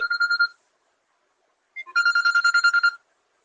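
An incoming call's phone ringtone sounds in two short electronic trilling bursts, one brief and one longer, separated by silence and loud and close.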